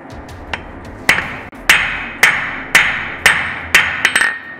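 Hammer blows ringing on hot metal against an anvil while forging a penny end scroll, about six sharp metallic strikes at a steady rhythm, close and loud with a ringing decay after each hit.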